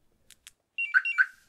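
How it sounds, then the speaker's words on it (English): Compustar CM7000 car alarm gives two quick soft ticks, then a short series of bright electronic chirps in quick succession, close and clear against silence. "And the chirps are back on now"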